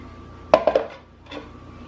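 Salsa scraped from a food processor into a bowl in a home kitchen, heard as three quick clattering knocks of utensil on dish followed by a softer clink, close and fairly quiet, with no talking.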